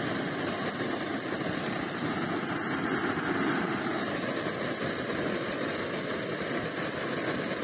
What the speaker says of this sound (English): the burner is going to be on full for every one of these tests